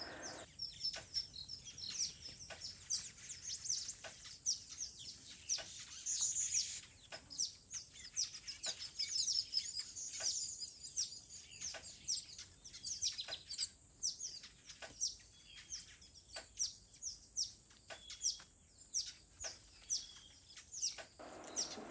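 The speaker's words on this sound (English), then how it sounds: "these two little weavers were having a ferocious fight" Two small weaver birds chatter and chirp in rapid, scratchy bursts over a noisy outdoor background, the squabbling calls of their fight continuing busily throughout.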